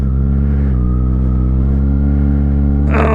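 A Kawasaki Ninja ZX-6R inline four-cylinder supersport motorcycle holds a loud, steady droning note, then its pitch lifts sharply near the end as throttle is added, all close up with no one talking.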